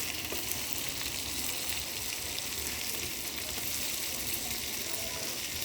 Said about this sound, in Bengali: আমার বাগনি রান্না করতেছে। লাড়কি চুলার রান্না কিন্তু অবশ্যই অনেক মজা।